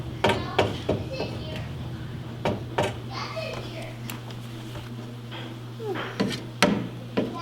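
Sharp hammer taps ring out irregularly indoors at a home, a dozen or so knocks spread across the clip while young children chatter and talk over them.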